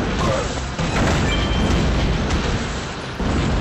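Explosions in the Transformers Dark of the Moon mobile game, a dense, loud continuous rumble of blasts and crashing debris filling the whole stretch.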